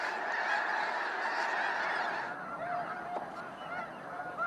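Ross's geese and snow geese honking in a Sacramento Valley winter wetland, a dense chorus of many birds at middle distance that thins into scattered individual calls.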